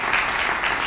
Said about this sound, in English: applause for Tom